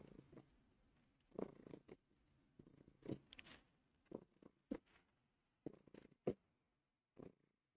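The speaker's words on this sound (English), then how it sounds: "I don't know if you can hear the purrs or not." A cat purrs close by in rhythmic bursts, each breath a short, soft, low rumble separated by quiet gaps, with no talking.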